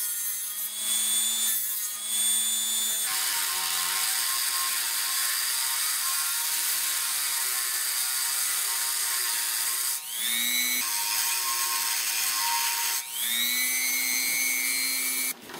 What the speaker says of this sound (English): we're going to put a groove in with this Dremel tool